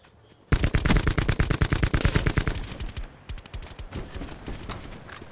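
Rapid Maddox rifle fire in a battle-royale video game, a loud burst of dense automatic shots for about two seconds, then scattered slower shots continuing at lower level.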